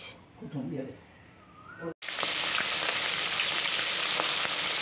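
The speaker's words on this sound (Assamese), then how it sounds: "মাগুৰ মাছৰ আঞ্জা বনাম তো এয়া ষ্টাৰ্ট কৰি দিলোঁ" Magur catfish for a curry hits the pan and starts frying. A brief voice and quiet sounds come first, then a sudden loud, continuous close sizzle fills the rest.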